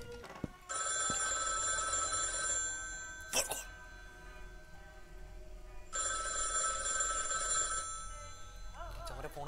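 Telephone ringing in a horror video game kitchen, two long electronic bell rings separated by a pause, with a sharp knock between them and a quiet room tone.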